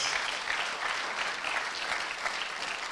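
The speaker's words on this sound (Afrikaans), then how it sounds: "Kom aan, gee hom 'n hande klap" A church congregation claps its hands during a Palm Sunday service, a steady dense applause that fills the room evenly throughout without pause.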